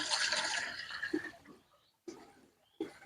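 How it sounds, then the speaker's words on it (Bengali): Water pours and splashes into a basin for salt water, a loud rushing flow that fades out, followed by two brief sloshing splashes. "একটা গামলার মধ্যে নুন জল করে জল নিয়ে নিচ্ছি"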